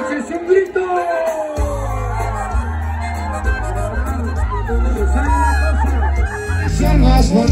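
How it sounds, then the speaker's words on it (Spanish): A loud crowd at a live concert in Purépero, Michoacán shouts and cheers over pounding music, voices whooping and calling out together in a dense, energetic din. "¡Ese es un grito!"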